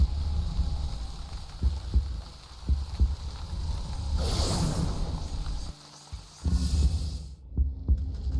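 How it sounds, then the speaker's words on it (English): Steady thumping heartbeat pulse from the video game Wytchwood, regular soft low beats looping over a droning background hum, dropping out near the end. "I'm also not listening to that heartbeat sound for forever and ever."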